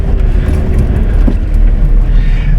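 A Chevy Traverse engine with many warning lights on and trouble accelerating runs rough, a loud, close, continuous low rumble with uneven pulsing and faint rattles throughout.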